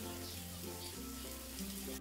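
Achappam frying in hot oil gives a steady, soft sizzle and crackle throughout, faint and continuous with a low hum underneath and no talking.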